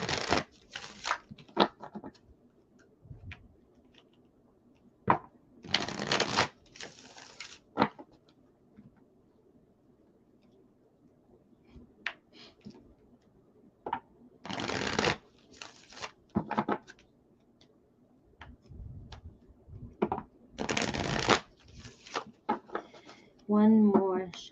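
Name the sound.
tarot cards being shuffled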